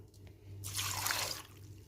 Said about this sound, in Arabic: 3 كوبايات ميه او كوبايتين على حسب ما نشوفوا ايه